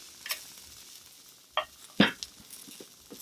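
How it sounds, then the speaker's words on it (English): Soybean sprouts stir-fried in a pan for Korean bibimbap, heard as a few short, sharp scraping and clattering strokes spread over a few seconds against a faint, low sizzle. "you're just going to stir fry them around to get them cooked a little bit."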